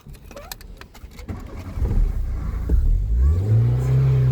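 At an Ankara car bazaar, a used car starts up. A few sharp key clicks come first, then the engine cranks and catches, settling into a loud, close, steady running hum that rises slightly. No one speaks.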